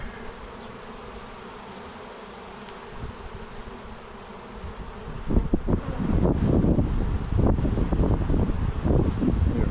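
Honeybees fan at an open hive during a frame inspection, a steady close buzzing hum that grows louder and denser midway, mixed with wind buffeting against the microphone.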